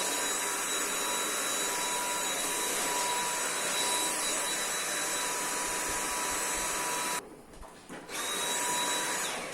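A cordless stick vacuum cleaner runs with a loud, steady high-pitched whine and airflow hiss, briefly cutting out and dropping before resuming at full power, close and without voices.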